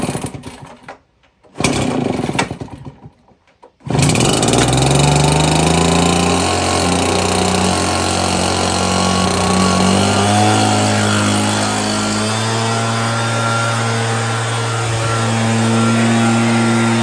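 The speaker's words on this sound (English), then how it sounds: "I showed my gas blower in action against the same objects." A gas leaf blower roars loud and close, with two short bursts before it settles into a sustained, steady drone that wavers slightly in pitch.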